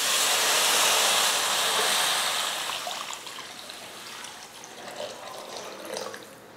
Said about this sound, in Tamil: வதக்கிட்டு இப்போ தண்ணி சேர்த்துடலாம்.